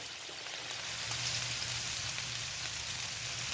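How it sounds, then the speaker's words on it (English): Zucchini and squash sauteing in a hot pan give a steady, dense sizzle like light rain, growing slightly louder after the first second and holding evenly, with a low hum underneath. "I also have some zucchinis and squash here that I'm gonna be putting in there. And I'm gonna saute those also"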